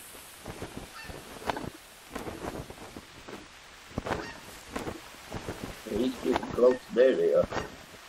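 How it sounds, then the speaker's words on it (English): Geese honking in the open on a goose hunt, a flock calling in bursts that grow louder and denser toward the end, mixed with wind noise and someone talking over it. "There they are."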